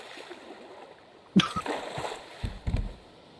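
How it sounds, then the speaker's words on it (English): Water splashes in the Raft survival video game: a quiet lull, then a sudden loud splash followed by smaller sloshing and a second cluster of splashes. "I just hear sounds of panic and then splashes."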